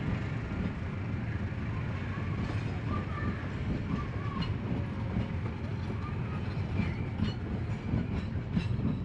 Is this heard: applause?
no